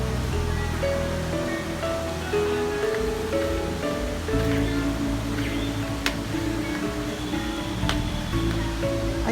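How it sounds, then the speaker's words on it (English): Tegenungan Waterfall in Bali, a huge cascade roaring as a loud, continuous broadband rush of falling water heard up close, with no talking. "It's a huge waterfall."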